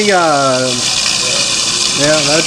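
A garburator grinds alongside a running kitchen tap, a steady rushing water hiss with a low mechanical hum underneath, while a person talks briefly at the start and again near the end.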